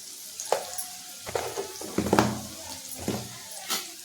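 Turmeric stirred into onions frying in a pan, giving a soft sizzle with scraping, clinking stirs at a steady, unhurried pace, close by and fairly quiet.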